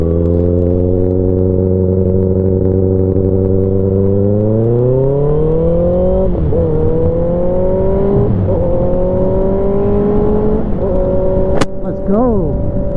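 A car in the GTA video game accelerates hard, its droning engine pitch climbing and then dropping at each of several upshifts made without a quick shifter, loud and continuous with no voices.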